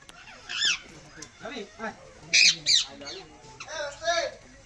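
Several sharp, harsh bird squawks in short bursts, fairly close, with a person talking in the background between calls.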